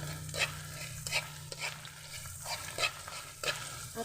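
Corned beef and eggs being stirred in a frying pan, a steady oily sizzle with rhythmic scrapes of a spatula every half second or so, close and moderately quiet, no voices.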